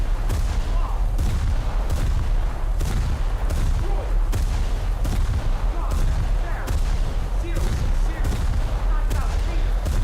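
Heavy naval guns from HMS Barham fire in a naval battle game, with rapid repeated booms and rumbling blasts packed densely over a continuous roar, and a voice talking faintly beneath.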